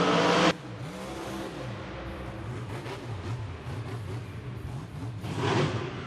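A monster truck engine at a stadium event roars and revs in a sustained loud drone with rising and falling pitch sweeps, ending with a brief surge.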